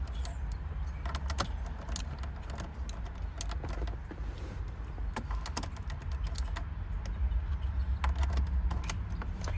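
Metal keys and a GM ignition lock cylinder clink and rattle as the cylinder is pulled out and handled, a steady run of small close-up taps and jingles over a low room hum.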